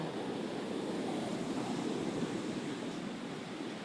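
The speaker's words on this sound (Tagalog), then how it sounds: "Maabot dito yung alon." Steady, rushing ocean surf on the shore at Hua Hin, a constant washing roar, fairly close and unbroken throughout, with no voices.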